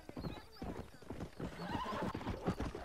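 A horse in the Red Dead Redemption video game on Xbox 360 clip-clops with rapid hoofbeats and lets out a whinny, loud and close, with game sound layered over it.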